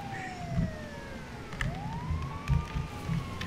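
An ambulance siren in the video game GTA V wails in rising and falling sweeps. It sits fairly faint over low rumbling game noise.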